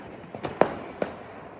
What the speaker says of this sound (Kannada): ಅಲ್ಲಿ ನೋಡ್ರಿ ನಮ್ಮ ಏರಿಯಾದಲ್ಲಿ ಫುಲ್ ಪಟಾಕಿ ಆವಳಿ